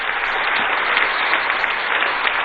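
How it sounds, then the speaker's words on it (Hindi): A large crowd of students and guests claps steadily and densely throughout to welcome a student at a laptop distribution event in India, a sustained wash of applause with no voices on top. "एक बार कृष्ण कुमार का दोनों हाथ उठा के ताली बजा के स्वागत कीजिए"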